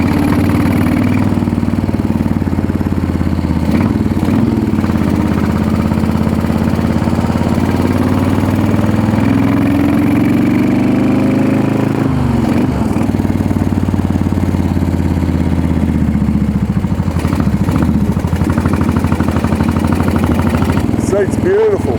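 A Moto Guzzi 850 T3 motorcycle engine runs loud and close, a steady throbbing mid-pitched drone that holds level throughout with slight rises, heard on its own.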